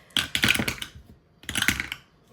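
A five-sided die rolled on a hard surface gives two short, close rattling clatter bursts separated by a brief pause.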